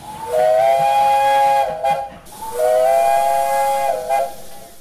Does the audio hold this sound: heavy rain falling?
no